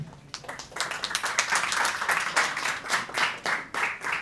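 Audience applause welcoming a teacher to the stage at a medical conference anniversary event, a dense, steady wash of many hands clapping that swells and stays loud throughout.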